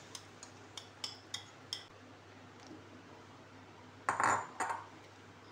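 A spoon taps and scrapes against a pan while besan batter is mixed: a run of light, evenly spaced metallic clicks, then a brief louder scraping clatter near the end, all faint and close.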